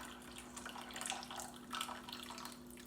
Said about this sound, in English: I'm just draining this water into my measuring cup